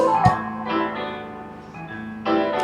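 A few soft keyboard chords played alone, with gentle attacks and sustained tones fading between them, quiet and close.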